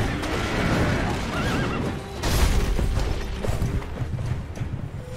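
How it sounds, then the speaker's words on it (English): Armored horse in the video game Sekiro: Shadows Die Twice gives a loud, close whinny over clattering combat sounds, with metallic clanks and a crash partway through. "This horse has armor"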